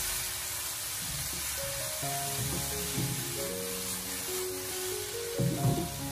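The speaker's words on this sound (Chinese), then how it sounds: "开大火给它持续的爆炒1小会，这样炒出来的蘑菇吃起来会更加的香。" Mushrooms stir-fried in a wok over high heat give a steady, even sizzle that runs throughout, with sustained music tones playing underneath and a slightly louder burst of frying near the end.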